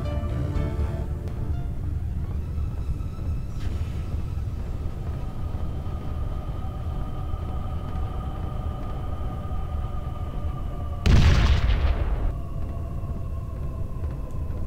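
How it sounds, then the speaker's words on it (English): Space combat in the Freespace 2 video game: a low, steady engine rumble runs throughout, broken by one sudden explosion burst near the end that fades over a second or so. "Random explosion."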